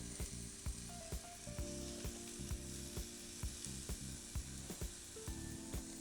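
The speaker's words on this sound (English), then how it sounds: "You hear that sizzle? That's why we preheat it." Steady sizzle of pork chops frying in a preheated air fryer crackles continuously, with regular soft clicks and thumps repeating throughout and a faint hum underneath.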